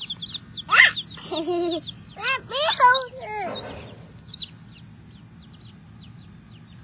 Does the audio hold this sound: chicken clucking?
yes